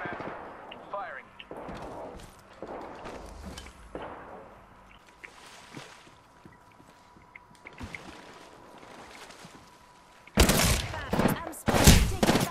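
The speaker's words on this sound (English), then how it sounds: "I'm getting shot at. Firing." Bursts of rapid gunfire crackle loudly near the end of a video game shooter match, after quieter stretches of scattered shots and background game noise under a player's voice.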